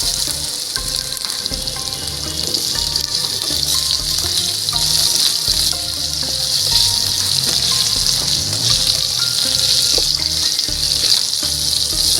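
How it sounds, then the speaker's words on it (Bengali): Potatoes sizzle steadily in hot oil in a pan during outdoor rooftop cooking on a winter morning, a loud continuous hiss with faint clinks and bubbling, no talking. "আলুটাও লাল লাল করে ভেজে নেব"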